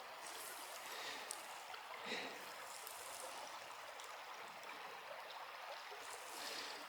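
The river in Coyote Gulch, Utah flows along as a soft, steady wash of water, fairly faint and continuous with no voices.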